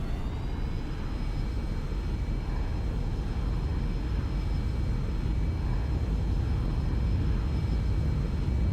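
A prop airliner's engines roar steadily during the takeoff roll in X-Plane 11, a continuous loud rumble with a faint high whine holding level throughout, no talk heard.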